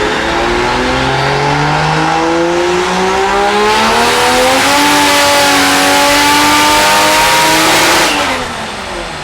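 A Toyota Supra with a 2JZ-GE engine running about 19 psi of boost on a tuning run, revving hard through a long rising pull with a rough wavering tone, then a sudden cut; loud and close, no talking.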